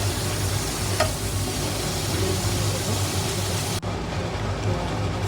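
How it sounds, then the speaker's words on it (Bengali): Hot water hits a sizzling spice paste in oil for a hilsa fish curry, giving a loud, steady frying hiss with a low rumble underneath and a sharp break near the end. "এবার মধ্যে আমরা একটু সদস্য গরম জল দিয়ে দেবো।"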